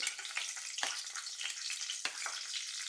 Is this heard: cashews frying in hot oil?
yes